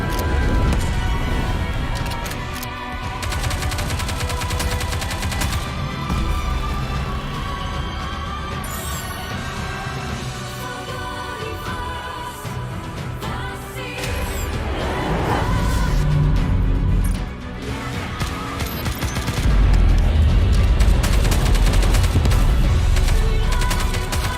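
Sustained gunfire in the shooter game Nikke, a dense, continuous barrage of rapid shots with explosive bursts layered under game music and effects, getting heavier toward the end.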